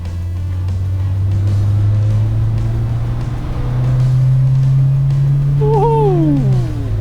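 A 1984 VW Golf 1 Cabriolet Karmann accelerates, its engine drone heard from inside the car as a steady loud hum rising slowly in pitch, then dropping off sharply near the end.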